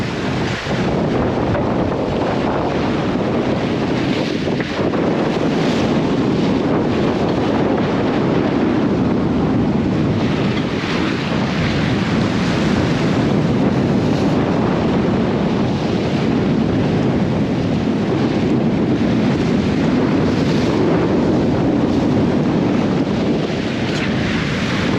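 Wind buffets a sailboat on a broad reach in about 20 knots at sea, with steady roaring gusts over the microphone and the constant rush of swell and water along the hull, continuous and loud with no voices.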